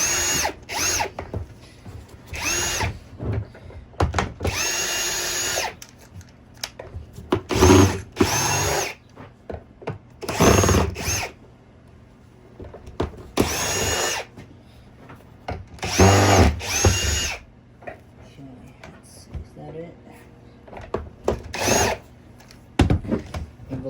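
A power drill backs screws out of a Eureka Airspeed vacuum during a repair, in repeated short whirring bursts separated by pauses and quiet handling clatter.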